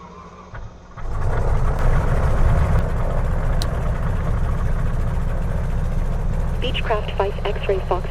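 A vintage Beechcraft plane engine cranks and catches about a second in, then settles into a loud, continuous close-up rumble before taxi, with a voice coming in briefly near the end.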